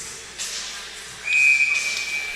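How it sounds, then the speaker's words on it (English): A hockey official's whistle at a face-off during the third period of a U13 AA ice hockey game, sounding as one steady, shrill blast that starts about halfway through and holds to the end over arena crowd noise. "The official from down deep, blowing the whistle to send them right back out"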